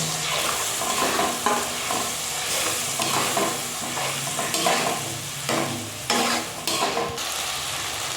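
Tomato paste stirred in a hot oiled pan gives a steady, close sizzle broken by repeated scraping strokes of the spoon, with no voices.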